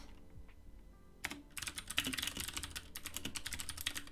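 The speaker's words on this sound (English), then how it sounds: "Testing the keyboard sound." Close-up keyboard typing: quiet at first, then a rapid, steady run of clicky keystrokes with no talking.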